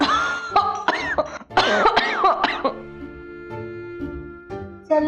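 Several people coughing and clearing their throats in quick, uneven bursts, close by, followed by a sustained tonal background with one more cough at the end.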